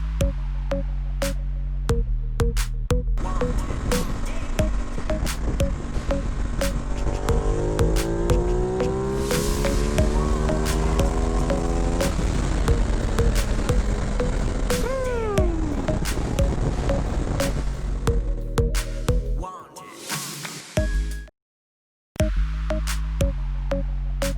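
Ducati Multistrada Enduro 1200 motorcycle engine revving hard on a dyno, a loud steady drone that climbs in pitch through the pull, then drops off and briefly cuts out near the end before resuming.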